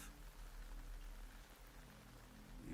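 Steady rain falls in the video game Metal Gear Solid Delta: Snake Eater, a dense, even hiss of drops that holds at the same level throughout with no voices over it.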